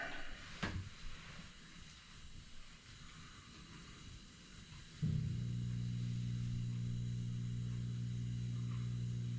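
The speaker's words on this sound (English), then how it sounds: "It's the pump, the drain pump to pump out any old water from the previous load." A dishwasher's drain pump starts up partway through, shifting into a steady, loud, even hum that holds to the end after a quieter stretch with a brief knock at the start.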